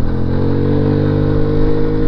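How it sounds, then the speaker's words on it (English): 1985 Honda Helix scooter engine running loud and close, a steady rumbling drone with a slight rhythmic pulse and no voices. "Hear that engine roar."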